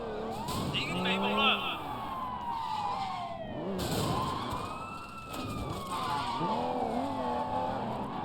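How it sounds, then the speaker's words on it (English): A police car siren wails and sweeps during a chase in Sleeping Dogs, loud and close over engine roar, with overlapping siren tones rising and falling throughout. "Damn, the police."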